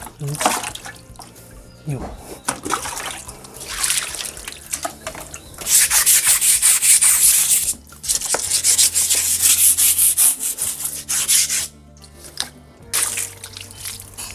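Scrubbing the walls of a cement fish tank during cleaning, heard as loud, close, rasping strokes coming in long bursts with brief pauses, mixed with watery sloshing.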